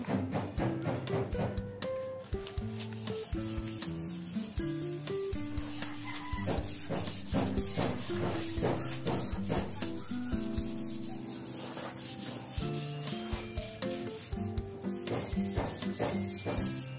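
Fine sandpaper rubbed by hand across a wooden project in steady back-and-forth strokes, close and continuous, with background music throughout.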